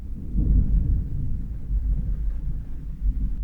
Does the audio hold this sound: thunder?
yes